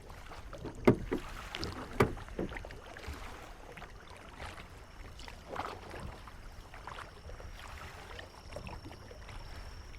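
Canoe paddles splash and dip into water in scattered strokes, with a couple of sharp knocks early on over a soft, steady wash of moving water.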